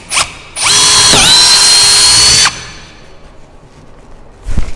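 A close, loud electric drill whines steadily for about two seconds as it bores through wood, then winds down; short knocks sound before and after.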